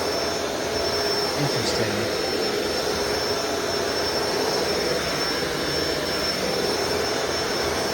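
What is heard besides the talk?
Shark Rotator DuoClean vacuum power head spinning faster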